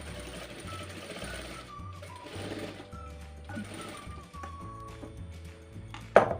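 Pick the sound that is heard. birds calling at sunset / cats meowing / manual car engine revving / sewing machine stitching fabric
sewing machine stitching fabric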